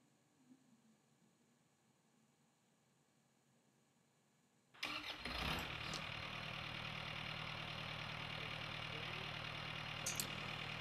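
An Isuzu 4BG1T diesel engine fitted with a Chalwyn valve starts up after a few seconds of near silence, then runs steadily at a loud, constant throttle with a dense rumbling drone, heard close and alone.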